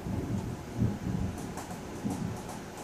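Low, rolling rumbles of thunder from a storm swell and fade over steady rain-like noise, with a few brief brighter crackles; no voices.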